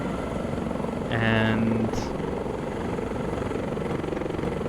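A USCG AS65 helicopter in the X-Plane 11 flight simulator thrums steadily in the background while someone speaks briefly over it, with a short brighter tone rising midway.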